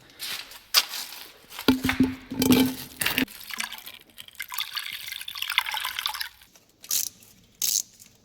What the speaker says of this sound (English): let's drain the radiator. Okay, guys, it's flowing